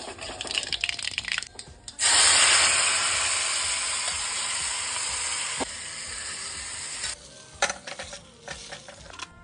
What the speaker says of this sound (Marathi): आता आपण करतोय फोडणी। मोहरी, जिरं, हिंग,